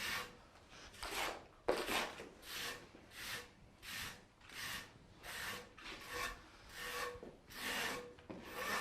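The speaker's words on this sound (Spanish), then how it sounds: "Ya le damos una capa muy fina, solo para que cubra la malla." A trowel spreads a thin coat of plaster over mesh on cement board, making rhythmic scraping strokes about once a second that swell and fade, close and fairly quiet with no talk.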